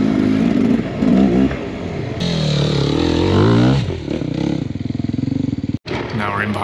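Kawasaki KX 250 dirt bike engine on an enduro trail, loud and close, revving and droning with rising and falling pitch, with a brief drop near the end before picking up again.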